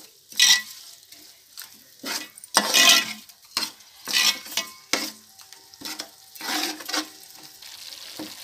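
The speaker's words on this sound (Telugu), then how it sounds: "ఇప్పుడు అంతా మొత్తము కలిపేసి మసాలా వేయించుకుందాం" Masala for a fish curry frying in a pan, stirred in short bursts, with repeated scraping strokes and clinks of the spoon over a faint sizzle and quiet gaps between them.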